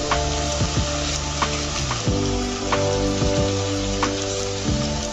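Veg noodles with soy sauce being stirred in a hot pan, a loud steady sizzle close up, broken by repeated scraping and clanking strokes of a utensil against the pan.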